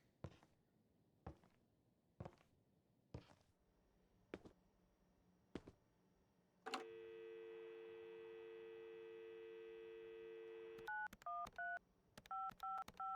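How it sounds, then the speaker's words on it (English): A telephone number dialed by hand: a series of separate button presses, then a steady dial tone and a quick run of touch-tone beeps, all clear and close with no talking. "Time to make those phone calls."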